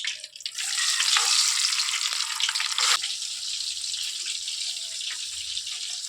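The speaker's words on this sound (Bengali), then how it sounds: "এপাশে আমি ডিমগুলো ভাজা বসিয়ে দেবো।" Eggs frying in mustard oil in a pan give a steady, close hiss and crackle that begins loud, then eases to a softer continuous sizzle after a few seconds.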